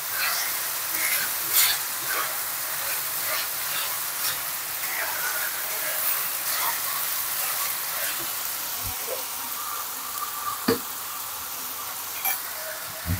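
Steady crackling sizzle of diced onions stir-frying in a pan, with occasional scraping clicks of a utensil stirring.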